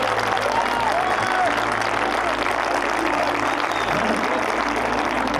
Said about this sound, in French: je voudrais vraiment qu'on applaudisse mon équipe